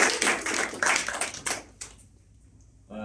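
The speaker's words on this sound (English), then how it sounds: "Just a round of applause for the." Audience applause at a summit on off-grid energy and financial inclusion, a dense burst of clapping for about two seconds that thins out and fades to near quiet.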